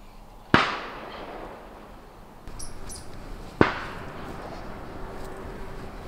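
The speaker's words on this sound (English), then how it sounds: "we've got a lot of vineyards around us, so we have a lot of cannons going off" Bird-scaring gas cannons fire in vineyards, two distant sharp booms several seconds apart, each trailing a faint echo over a quiet background, with no talk.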